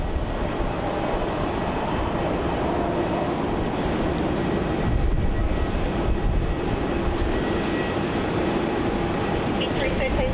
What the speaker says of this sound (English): Coming in now, we have Virgin Australia flight VA306 from Brisbane,